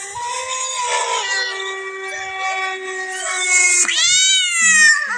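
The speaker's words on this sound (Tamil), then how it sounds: "பூனை வேறு கத்துற சவுண்டு கேட்டுச்சு" A cat yowls loudly and close by, a long drawn-out wavering cry followed by a rising, sliding wail.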